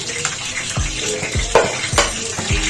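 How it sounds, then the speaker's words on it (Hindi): Battered leftover naan frying in hot oil for a naan pakora, with a steady dense sizzle and a few soft bubbling bursts and clatters throughout. "जैसे ही हमारा अच्छा सा ऑयल गर्म होगा फिर हम इसको फ्राई करने के लिए रख देंगे"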